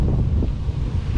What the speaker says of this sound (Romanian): vântul bate puternic dintr-o parte